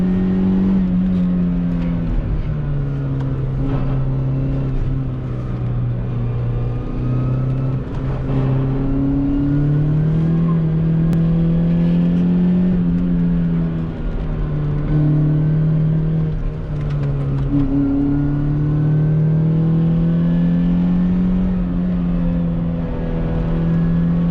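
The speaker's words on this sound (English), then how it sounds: "Feel like go-kart driving?" A go-kart engine pulling steadily in second gear, a loud close droning hum whose pitch rises and dips gently as speed changes, running without a break and with no talk.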